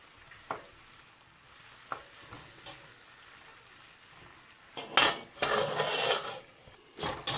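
Chuck steaks with garlic cooking in a pan, a faint sizzle under a few soft taps before a louder scraping stir and steady frying hiss swell near the end.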